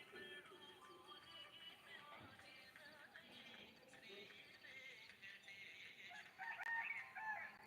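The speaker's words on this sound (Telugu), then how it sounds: "వింటున్నారు కదా కోడి కూతలు" Roosters crow repeatedly across a quiet morning village, their calls mid-distance and mixed into steady ambient noise, with a louder crow near the end.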